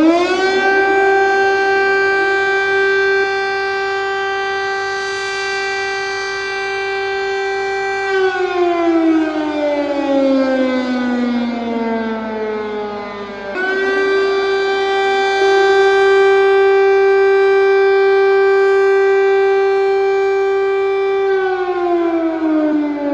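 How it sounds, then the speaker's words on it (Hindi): A loud civil defense air raid siren in Kyiv wails steadily, its pitch dropping and rising again in long sweeping cycles, with nothing else audible. "पूरे कीव में एक साथ सायरन बज रहा था।"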